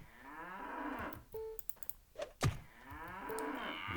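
Cattle in the game Jagged Alliance 2 give a couple of drawn-out moos, one at the start and another near the end, with short thuds and clicks in between.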